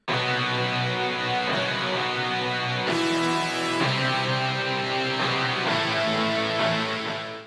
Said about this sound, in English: there is a guitar and a power chord.